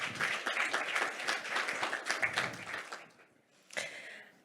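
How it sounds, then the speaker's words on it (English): Audience applause at a business conference session, a dense wash of clapping that holds steady for about three seconds, then thins out, with a brief final burst near the end. "let's welcome the last speaker with a big round of applause"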